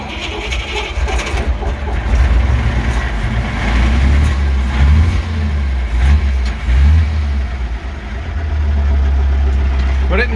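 An Sd.Kfz 251 half-track engine is running with a loud, rough, steady roar. The revs rise and fall in uneven surges over a low rumble throughout.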